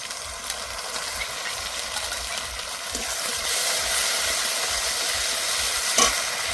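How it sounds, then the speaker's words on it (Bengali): Ginger, cumin and dried red chilli pastes are fried with browned onions for a Pangas fish curry, giving a constant close sizzle with soft scraping stirs and a few sharper knocks of a utensil. "পেঁয়াজটা খুব সুন্দর করে ভেজে নিয়েছি, এবার দিয়ে দেবো কিছু মশলা। আদা বাটা, জিরে বাটা, শুকনো লঙ্কা বাটা।"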